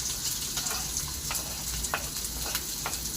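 Chopped onion frying with beetroot greens in a pan, giving a steady close sizzle broken by light, regular stirring clicks.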